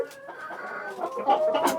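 A laying hen clucks softly and repeatedly up close, the short clucks growing a little louder toward the end.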